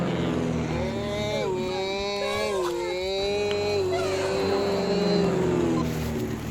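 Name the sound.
toy airplane motor being started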